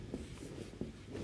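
A lecturer writing on a board during an operations management lecture, with soft, faint scratching strokes in a quiet room, brief and close, without talk.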